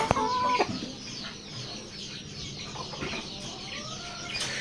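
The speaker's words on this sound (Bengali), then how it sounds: "এগুলো হচ্ছে লেয়ার মুরগি দেখতে পাচ্ছেন লেয়ার মুরগি এখানে" Several hens cluck and squawk close by in short, irregular bursts, with a brief flutter of wings near the start.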